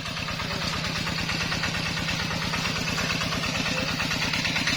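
A water pump engine running while pumping out a fish pond chugs at a steady, loud idle, its rapid even putter continuing without a break.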